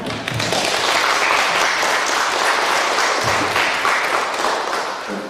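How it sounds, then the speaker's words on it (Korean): An audience applauding at a youth forum, a sustained, dense round of clapping from many people in a hall, loud and even throughout before tapering slightly at the end. "한 분의 소개가 끝날 때마다 큰 박수 부탁드립니다."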